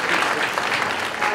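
An audience at a data science conference applauds presenters, a continuous wash of clapping held at an even level across the moment, with a faint hint of voices beneath.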